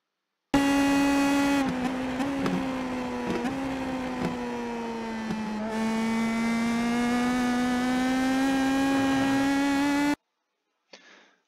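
An IndyPro2000 open-wheel race car in the iRacing simulator laps Lime Rock, its engine a loud, steady high-pitched whine that dips briefly and climbs again as it shifts, then cuts off abruptly.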